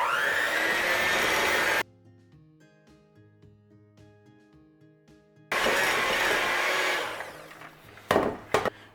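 An electric mixer creams butter and sugar for vaselopita, a Greek New Year's cake. It gives a loud, close whir that stops for a few seconds of quiet, starts again and winds down, ending with a few knocks.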